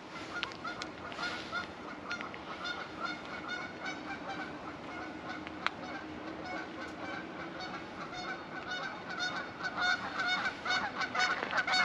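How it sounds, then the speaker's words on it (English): Geese honking repeatedly from a distance outdoors, their calls coming in scattered bursts over a faint steady background hum and growing a bit louder toward the end. "Look at the geese here."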